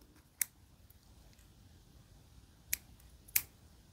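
Scissors snip through the tail of crochet yarn on a crocheted tumbler bag, three sharp quiet clicks spaced apart against a near-silent background.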